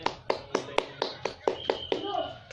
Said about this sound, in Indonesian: Mari kita tepuk tangan untuk Ayu